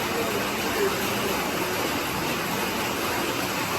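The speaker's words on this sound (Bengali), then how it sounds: "বাইরে প্রচন্ড বৃষ্টি হচ্ছে" Heavy torrential rain pours outside as a constant, even hiss with no pauses, heard at a moderate distance and fairly quiet.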